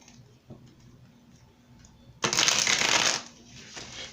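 Tarot cards being shuffled in a quiet room, a single dense riffling burst lasting about a second after faint handling sounds, then settling back to soft rustles.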